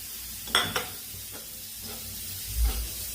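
Chili powder and spices stirred in a hot pan make a soft sizzle and hiss with a couple of quick spoon scrapes at the start and a duller knock near the end, with no talking.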